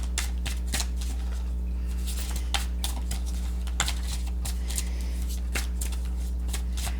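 Oracle cards are shuffled by hand in a continuous run of quick, papery riffles and snaps, crisp and close, over a low steady hum.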